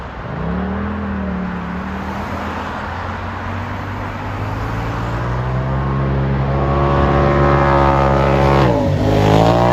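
A 2021 Polaris RZR XP 1000 Turbo side-by-side revs its turbocharged engine, a loud continuous roar whose pitch climbs steadily and then dips sharply near the end.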